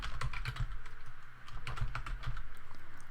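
Keys clatter on a computer keyboard in quick irregular bursts of close, crisp taps with a brief pause midway, and no talking.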